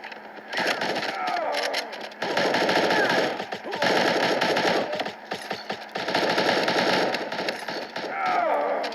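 Automatic rapid gunfire set to burst mode in a video game, dense loud bursts of shots in several long volleys separated by brief pauses, close and dominant throughout.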